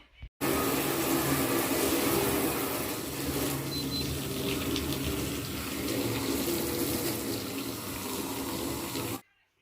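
Tap water runs steadily into a sink while someone rinses silver hair colour out of their hair and washes their face, a continuous close splashing wash that starts suddenly and stops abruptly.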